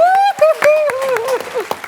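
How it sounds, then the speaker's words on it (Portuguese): An audience claps for Beth, a guest on a Brazilian TV variety show. The claps are sharp and fairly steady, sounding beneath a strong, sustained voice. "Bora aplaudir a Beth de novo"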